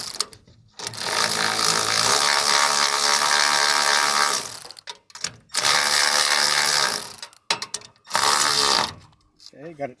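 A ratcheting wrench tightens a nut and washer onto a solar panel bracket, giving long bursts of rapid, loud clicking that stop and restart several times, with brief speech near the end.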